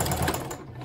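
A sewing machine back-stitching through denim jeans, a brief close-up mechanical whir of needle and gears with no talking.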